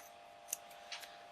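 Scissors snip through craft material while a miniature witch's hat and spell books are being made, giving a few quiet, brief close cuts.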